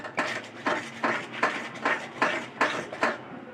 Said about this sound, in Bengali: এই যে এটা ভালো করে নাড়তে হবে একভাবে, কারণ কাজু বাদাম আছে, নাহলে তলায় লেগে যাবে।